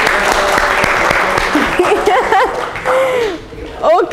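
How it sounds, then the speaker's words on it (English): Audience applause after a classroom leadership presentation, a dense wash of clapping filling the room while voices talk and chuckle over it, thinning out toward the end. "Clap your hands for this."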